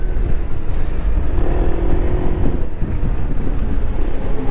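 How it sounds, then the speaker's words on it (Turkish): Strong wind roars and buffets against the microphone of a moving motorcycle continuously, a loud, rough rush with a faint engine drone underneath. "Güzel bir rüzgar var şu anda"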